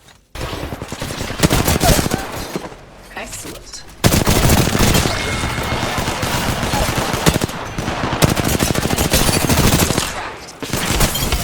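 SMG fire rattles in rapid, loud bursts in the video game Apex Legends, with short pauses between strings of shots and a voice talking over the action.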